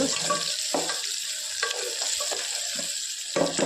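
Chopped onions frying in a pan at home, a continuous close sizzle and hiss with occasional scraping stirs, no voices.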